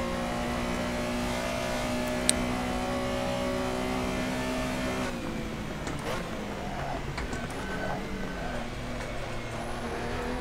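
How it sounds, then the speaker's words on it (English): A Porsche Carrera Cup car's flat-six engine in a racing simulator revs and hums steadily, then its pitch shifts and roughens midway as it changes speed; continuous, close, with no talking. "you really hear that flat 6 sound out of it"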